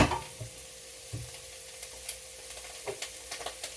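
Alligator bites stir-frying in a pan give a low steady sizzle, with a few soft scrapes and knocks of stirring scattered through, fairly quiet and with no voices.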